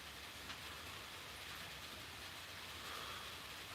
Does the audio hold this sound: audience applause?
no